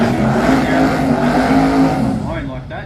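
Drag racing car tearing down the strip at a Brisbane jamboree, a loud, dense engine roar that holds steady then fades as it pulls away, with a commentator talking over it.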